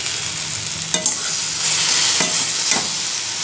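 Okra (bhindi) frying in a pan, a loud continuous sizzle with a few scraping stirs of a spatula, close up and with no voices.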